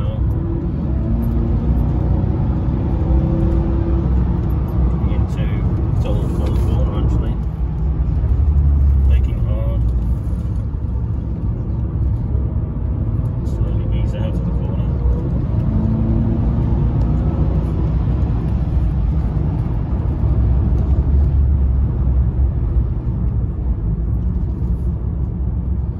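A Jaguar XJR saloon's engine drones steadily at around 80 mph on a race circuit, a loud continuous rumble and whir with road and wind roar; a voice talks over it at times.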